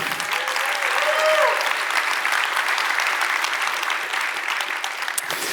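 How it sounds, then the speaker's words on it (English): A conference keynote audience claps steadily throughout, a full, sustained round of applause with a faint whistle or cheer early on and no speech over it. "they deserve a big round of applause."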